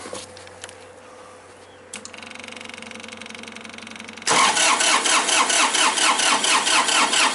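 A Massey Ferguson diesel tractor with a crank no-start fault cranks over after a few clicks, a steady rhythmic churning that rises and grows loud and rapid, close up with no speech.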